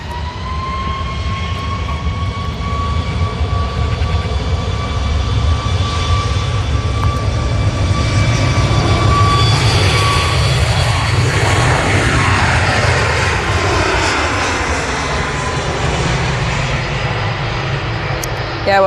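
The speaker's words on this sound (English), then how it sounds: "this Ryanair's on the spooling up now" A Ryanair jet at Manchester Airport spools up its engines, a broad, steady roar with rising and sweeping whining tones, heard from a distance and sustained throughout, with people talking faintly over it.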